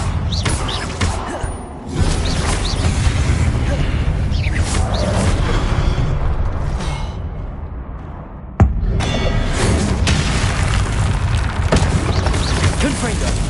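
Booming blasts from the Confringo spell in Hogwarts Legacy roll out amid loud, continuous game noise, with one sharp explosive crack standing out near the middle before the rumble resumes.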